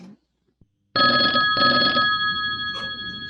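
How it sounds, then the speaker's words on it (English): An old-style telephone bell rings indoors in two loud, brassy bursts with a short gap between them, after a moment of near silence, and the ring fades off at the end. "The phone's ringing."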